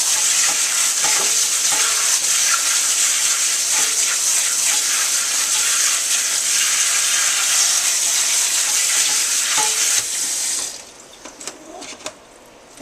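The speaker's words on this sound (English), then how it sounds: "First thing you want to do is wash off your stevia." Stevia leaves are rinsed under running water, a steady broadband splashing and trickling that stays loud and even for about ten seconds before cutting off to quieter handling sounds.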